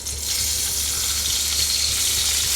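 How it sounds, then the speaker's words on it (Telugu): Green chillies fry in hot oil in a kadai, producing a loud, dense, continuous sizzle and crackle that holds steady throughout, close up and with no talking. "పచ్చిమిర్చి అనేది వేపేసుకుంటాను. ఆయిల్లో ఫ్రై చేసుకోవాలి."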